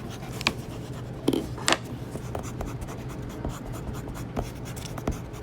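Pen writing numbers on paper during a fraction lesson, with steady scratchy strokes and a few sharper taps, close and alone with no talking.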